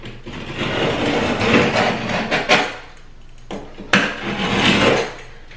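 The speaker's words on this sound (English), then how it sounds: "I'm just gonna score the wall with my utility knife" A utility knife scoring drywall around a medicine cabinet, giving rough, close scraping strokes of several seconds, with a couple of sharp knocks and brief pauses between passes.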